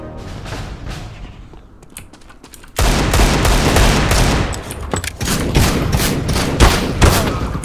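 Rapid bursts of Counter-Strike: Global Offensive gunfire in a Dust II deathmatch, Desert Eagle shots mixed with other weapons, loud and dense with sharp repeated cracks that grow heavier partway through.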